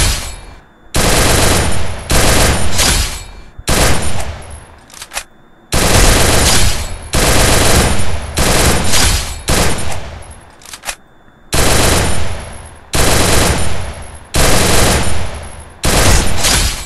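Gunfire from the battle-royale game Free Fire on PC: loud, sustained automatic bursts up close, separated by brief pauses, with no talking over them.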